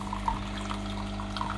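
A Bosch Tassimo coffee machine pours coffee into a cup with a steady electrical hum and a soft, continuous trickle of liquid throughout.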